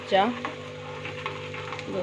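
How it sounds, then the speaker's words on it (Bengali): Quiet sizzling of potatoes with onion greens frying in a pan, with faint scraping and a few soft clinks, steady and close. "এর পাশে বসিয়েছি পেঁয়াজ কলি আলু ভাজা"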